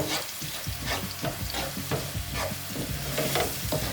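Onion and cinnamon frying in oil for a hair-oil preparation, with a steady close sizzle and repeated stirring scrapes throughout, no voices.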